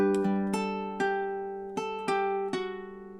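Fingerstyle ukulele melody from a summery tune, measure 6 played in time: six or so clear plucked notes at an even pace, ringing close and alone with no voice.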